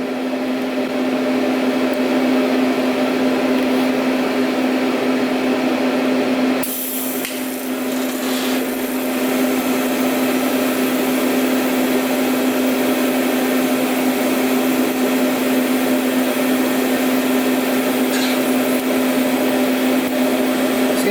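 TIG welding on stainless steel at 70 amps with a number 12 cup gas lens and 308L filler: a loud, steady electric buzz with a fixed hum and broadband hiss, briefly dipping near the middle before resuming.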